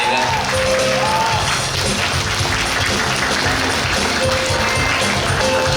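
Loud, dense audience applause for the Suncheon mayor at a youth forum, a sustained, even roar of many hands clapping at once, with a few faint voices mixed in.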